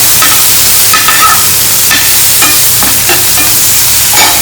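Tadka of tomato and salt for mushroom masala sizzles steadily in a hot pan, with scraping stirring strokes repeating throughout, close and loud with no talking.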